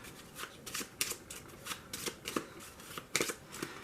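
Dungeon exit cards for a board game being shuffled by hand, giving a rapid run of crisp riffling bursts and soft flicks repeating close up over a quiet room.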